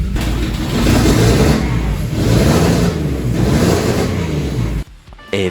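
Mercedes 3.2 turbo engine fitted with a new PowerMod standalone ECU, revving loudly in repeated surges on its first start, close and dominant before cutting off near the end.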